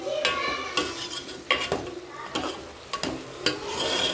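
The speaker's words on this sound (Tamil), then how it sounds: "இப்போ எல்லாம் கிளறி விட்டுக்கலாம்" Eggplant biryani stirred in a pot, a spoon scraping and knocking against the metal in irregular strokes over a soft sizzle, close up with no talking.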